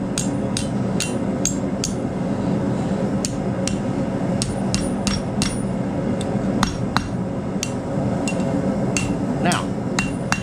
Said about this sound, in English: I'm gonna just start going over the horn, going over the anvil, hammering back to myself.